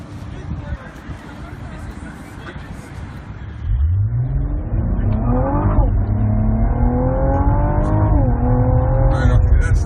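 A 2016 Cadillac ATS-V Coupe with a manual gearbox accelerating hard, its engine climbing loudly through revs with gear changes between rising pulls, close and dominant after a stretch of crowd chatter and idle.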